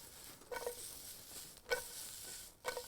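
Cucumbers sizzle quietly in a pan with soft scraping stirs at regular intervals, about three strokes, low and close.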